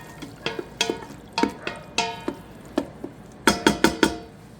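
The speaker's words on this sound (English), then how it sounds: "We'll give that a stir." Fire-roasted diced tomatoes stirred in a pot, a spoon scraping and clinking against the metal in quick, close strokes, clustered in short bursts with a quiet sizzle underneath.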